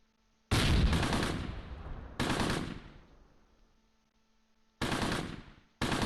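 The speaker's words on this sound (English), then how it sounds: "every time they open up on one guy, all these tanks just start firing back" Tank and infantry gunfire in the Close Combat World War II strategy game, set in Normandy in June 1944: loud, dense bursts of rapid shots in several separate volleys with short silent gaps, and no talking.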